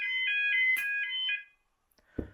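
A level crossing alarm sounds its warbling tone in quick, evenly spaced electronic pulses, clear and fairly near, then cuts off into silence before a brief dull knock.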